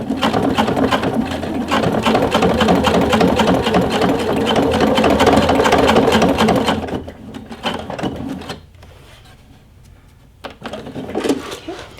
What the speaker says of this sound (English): So we'll go ahead and lower the presser foot and start stitching.